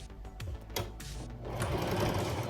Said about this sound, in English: You're going to first sew down to that first red pin.